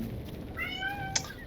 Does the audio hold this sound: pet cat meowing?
yes